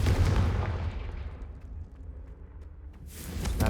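A Confringo fire spell explosion in Hogwarts Legacy bursts loudly at the start, then rumbles and fades away over a couple of seconds before a second burst of noise rises at the end.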